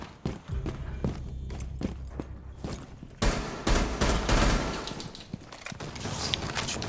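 Rapid gunfire in the tactical shooter game Rainbow Six Siege, loud repeated shots and bursts in close succession, with mechanical clatter between volleys and a dense barrage in the latter half.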